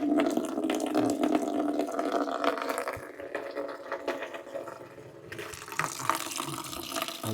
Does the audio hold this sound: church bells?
no